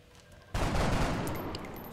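Soldiers firing on an alien in XCOM Enemy Within: after a quiet half second, a sudden loud burst of gunfire erupts and sustains as a dense crackling volley, fading slightly toward the end.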